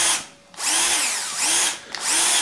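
A Festool CXS cordless drill runs in three short bursts, each spinning up with a rising whine and winding back down, close and alone with no talking.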